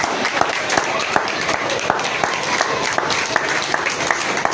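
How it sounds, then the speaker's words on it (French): Steady applause from a church congregation fills the space, dense and continuous with occasional sharper claps, and a voice speaks over it. "Applaudissons pour le Seigneur Jésus."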